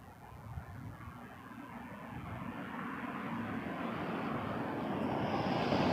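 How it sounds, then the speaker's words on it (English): An Air India Boeing 777-300 arriving at Toronto Pearson, a distant broadband jet roar that slowly swells and grows louder as it approaches, with no voices. "big Air India 777-300"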